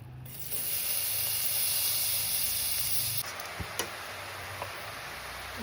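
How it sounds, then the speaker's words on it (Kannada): Carrots frying in Nandini ghee give a steady hiss for about three seconds, then the sizzle drops to a softer crackle with a few small clicks and taps. "ತುಪ್ಪದಲ್ಲಿ ಸರಿಯಾಗಿ ಫ್ರೈ ಮಾಡ್ಕೋಬೇಕು."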